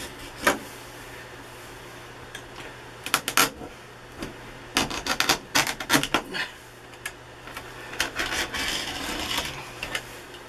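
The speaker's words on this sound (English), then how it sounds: "Now, I think I'm just gonna cut some of this away" Cutting away damaged roof material on an Aliner popup camper gives intermittent rasping and scraping strokes in uneven bursts, fairly close, with quiet gaps between them.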